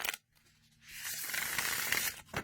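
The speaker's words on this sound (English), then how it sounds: "I'm going to give it one ripple shuffle." Tarot cards get a single ripple shuffle: a brief tap, then a quick, fluttering riffle of cards snapping together for about a second, ending in a soft final knock, close and quiet.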